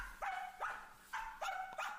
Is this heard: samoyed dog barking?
yes